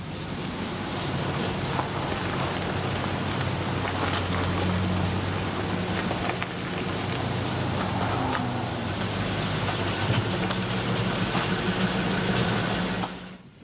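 Engine of a long-neglected 1980 VW Vanagon running as the van rolls in gear, a steady broadband rumble and hiss with a low drone underneath, constant throughout before cutting off at the end.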